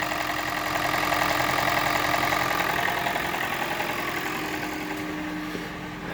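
A Toyota Prius 1NZ-FXE engine idles with a knock coming from the valve cover area, a steady close mechanical hum carrying a fast, even ticking clatter throughout.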